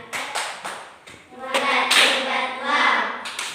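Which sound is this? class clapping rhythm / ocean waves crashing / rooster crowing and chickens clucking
class clapping rhythm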